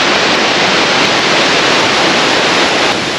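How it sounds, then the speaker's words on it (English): Tumalo Falls, a waterfall near Bend, Oregon, seen from a higher viewpoint on a loop trail, roars as a steady, loud broadband rush of falling water that continues without a break. "Looks like we're gonna get a higher view of this waterfall."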